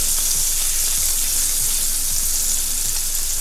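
Bacon sizzling and crackling in a frying pan, a loud continuous hiss with fine popping spatters, close up and alone with no talking.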